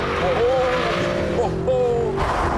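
A Mercedes SLS AMG's powerful engine roars loudly and continuously, revving high as it accelerates hard, with someone talking over the noise.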